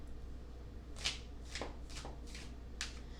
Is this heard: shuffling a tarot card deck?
yes